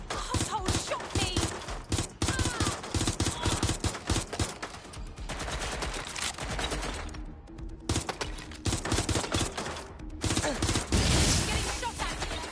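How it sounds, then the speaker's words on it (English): Gunfire in Watch Dogs: Legion, with loud, rapid, dense bursts of shots, one short lull, and heavy firing resuming close by. "Getting shot at here!"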